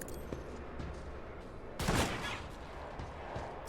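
A single loud gunshot bursts out with a sharp crack and short decay in Warhammer 40K Rogue Trader, standing out over a low, rumbling game backdrop.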